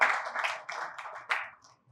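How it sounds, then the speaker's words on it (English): Brief, thin clapping from a few people at an annual lecture on tax reforms, greeting Dr. Muda Yusuf, coming in short uneven bursts that die away within two seconds. "A round of applause for Dr. Muda Yusuf."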